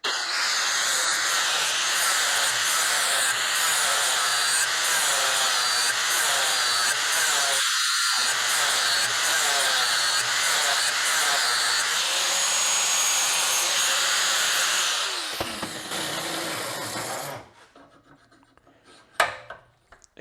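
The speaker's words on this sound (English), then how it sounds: "I use a flappy wheel to sharpen blades." An angle grinder fitted with a flap wheel sharpens a walk-behind Lawnboy lawn mower blade, giving a continuous loud, hissing rasp for about fifteen seconds before the grinder winds down and stops.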